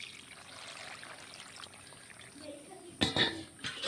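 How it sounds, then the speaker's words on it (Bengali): Water pours into a cooking pot in a short, splashy burst near the end, after quiet kitchen background. "বিসমিল্লা পানি দিয়ে দিলাম"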